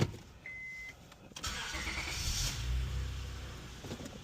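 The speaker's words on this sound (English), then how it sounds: "Turn the key on, and we good." A Honda Accord engine is started with the key. A brief quiet ticking comes first, then the engine catches and settles into a steady idle rumble nearby.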